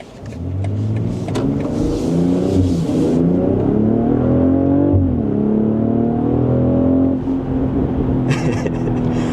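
A 2025 BMW X3 M50 crossover accelerating hard, its engine note rising steadily through the revs, then easing off briefly and climbing again, loud and close from inside the cabin.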